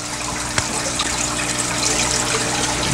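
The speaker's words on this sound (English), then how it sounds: "I'm starting to do a water change on this tank" Steady water pouring and gushing into an aquarium fish tank during a 50% water change, a continuous loud splashing rush with no talking.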